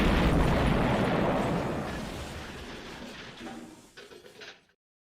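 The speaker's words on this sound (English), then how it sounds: "We gotta stop trying to end all these things with the explosions." An explosion in a video game bursts loud and broadband at the start, then a long rumbling decay with scattered crackles trails off over several seconds before cutting to silence.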